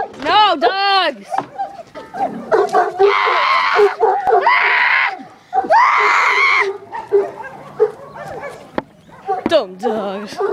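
Dogs bark and yip in loud, repeated bursts mixed with high squealing cries, close by and overlapping with people talking and shouting.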